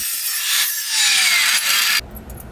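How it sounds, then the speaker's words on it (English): A saw slices through wood while making a miter cut, giving a loud, bright rasping stroke that swells and sustains for about two seconds before cutting off abruptly, followed by faint handling noise. "As you're cutting down, you never just slam the saw down because you'll pull the blade out"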